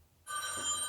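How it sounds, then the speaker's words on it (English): A phone ringtone starts abruptly after a short silence and rings on as a bright, steady electronic trill, clear and fairly loud. "That's the ringtone. That's the ringtone."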